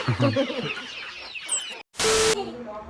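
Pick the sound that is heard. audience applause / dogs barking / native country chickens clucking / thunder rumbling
native country chickens clucking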